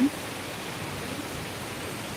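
Dense, steady roar of heavy rain pouring down continuously on rice terraces, close and loud, with no voices.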